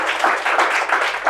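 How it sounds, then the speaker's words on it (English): A seated audience applauds a speaker at a talk, with steady, dense clapping close by that continues throughout. "And one round of applause to him."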